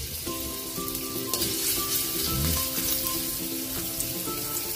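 Garlic sizzling and frying in hot cooking oil in a pan on a stove, a steady dense crackle running throughout, with faint tonal hum and clinks in the background.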